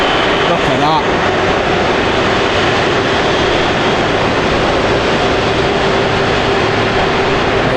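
An aircraft at Manchester Airport roars loudly and continuously as it passes, a broad engine rumble filling the whole clip with no letup.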